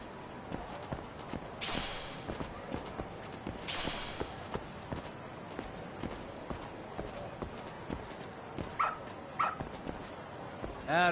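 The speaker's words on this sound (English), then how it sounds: "Good dog. Very good dog." A dog in the video game Lost Judgment barks and whimpers under game ambience and footsteps, with a few short sharp yelps near the end.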